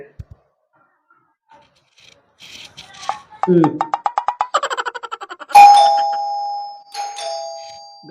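A doorbell chimes in a home, a ringing tone sounding after some brief talk and clatter, with a sustained ring near the end.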